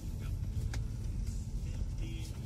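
An imported 2009 Hyundai Avante on a test drive at a used car market, heard from inside as a steady low engine and road rumble while the car slows under braking, with brief faint voices.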